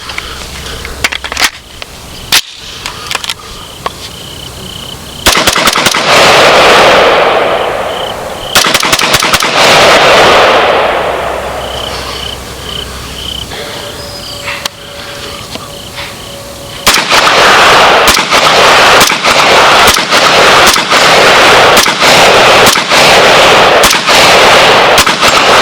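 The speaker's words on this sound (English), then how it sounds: "let's get back to the range and check out this baby shooting a little" An Aero Precision DMR rifle fires at an outdoor range in loud, sharp reports, single shots and quick strings, with long echoing tails between bursts and no talking.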